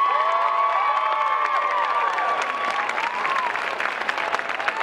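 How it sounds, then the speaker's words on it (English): A crowd at Denver Comic Con applauds loudly with cheers and whoops mixed in, a sustained wash of clapping with high shouts and whistles, including children's voices. "let's have a huge round of applause"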